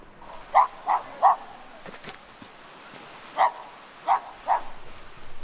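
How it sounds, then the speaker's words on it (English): Dogs in an Indian village bark in short bursts: three quick barks, a pause, then three more, moderately distant over a quiet background. "Aside from the ever-present dogs"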